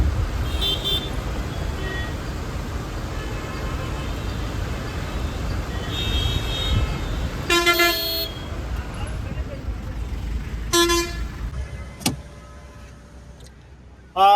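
Heavy road traffic in a jam near Tirupati on the way to Tirumala, with engines rumbling steadily and a few short car horn toots sounding nearby, plus one sharp click.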